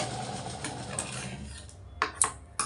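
A sewing machine stitching blouse fabric runs in a low, steady mechanical whir, then stops, leaving a few sharp clicks and taps of handling near the end.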